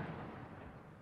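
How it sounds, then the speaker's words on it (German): Muzzle-loading guns fire to open the Tibetan New Year festival, heard as a distant, faint booming report whose rumbling echo rolls on and slowly fades. "Mit Vorderladern beginnt man das Neujahr, wie bei uns mit Böller oder Raketenschießen."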